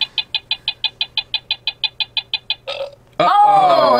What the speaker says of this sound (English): When you hear the burp sound, then you shuffle all the cards around.